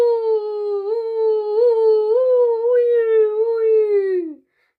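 A jackal's howl voiced by a storyteller in a Marathi children's tale about a camel and a jackal: one long, steady, tonal wavering cry near and loud, gliding down at the end, with no other sound.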